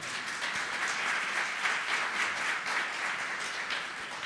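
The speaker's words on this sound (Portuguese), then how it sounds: "Você pode aplaudir o Senhor?" A church congregation applauds during a sermon, a dense, steady wash of many hands clapping together at even loudness throughout, with no voices standing out.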